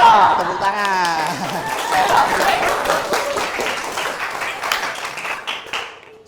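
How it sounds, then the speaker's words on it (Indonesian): Students in a classroom clapping in a burst of applause, close and lively, mixed with cheerful voices and chatter, tapering off toward the end. "Tepuk tangan."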